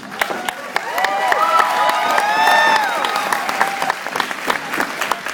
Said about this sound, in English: give a big round of applause to our judges and hosts